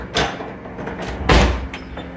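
A door is handled during a house renovation, with two short bumps and knocks, the second heavier, plus faint scraping in between, close by with no talking.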